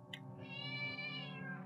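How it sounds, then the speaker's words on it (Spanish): A cat meows once in the horror video game Mad Father, a single drawn-out, clear cry lasting over a second, close and alone with no voices over it. "Escuché un gato"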